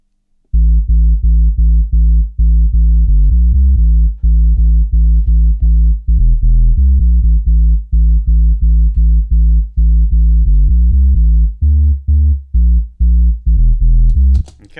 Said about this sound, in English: This is basically just a square wave with a really low filter on.